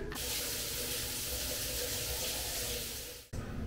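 Water runs steadily from a shower in a Copenhagen SAS airport lounge, a loud continuous hiss that stops abruptly near the end.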